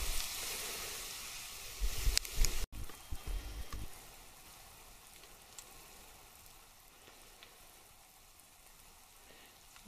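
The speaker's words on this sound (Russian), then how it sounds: "Вот наши кабачки жарятся с одной стороны сковородки, уже шипят." Zucchini pieces sizzle and crackle in a hot frying pan, a steady close hiss with a few louder clattering stirs early on.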